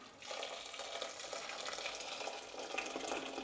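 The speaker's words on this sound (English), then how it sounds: "and in with our boiling water." Boiling water poured from a kettle into a pan of salted potatoes, a steady close splashing gush lasting several seconds with no talk over it.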